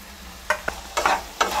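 A spoon scrapes through a bottle gourd and shrimp curry in a pan, making a few distinct scraping strokes over a low sizzle as rice flour water is poured in. No one speaks.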